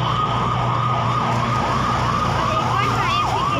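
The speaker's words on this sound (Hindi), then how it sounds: "इस बार भी फायर ब्रिगेड ही आई है।" A fire engine siren wails in a loud, continuous rising and falling cycle as it arrives at a burning school, with steady traffic and crowd noise underneath.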